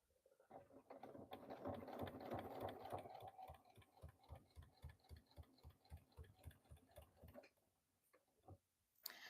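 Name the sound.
sewing machine top stitching denim corset dress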